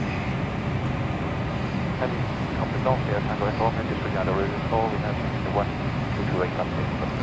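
A steady, droning roar from the jet engines of an MD-11 climbing in a flight simulator, with only three engines running and a light cargo load. Someone talks over the continuous engine noise throughout.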